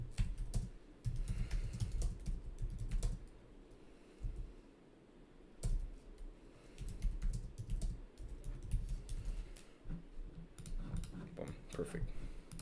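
Computer keyboard typing out a trading note, quick clusters of close key clicks with short pauses, under a low background rumble.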